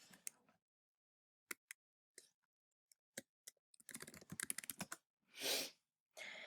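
Someone types on a computer keyboard to sign in, with scattered single key clicks followed by a quick run of close taps and a couple of longer brushing keystrokes.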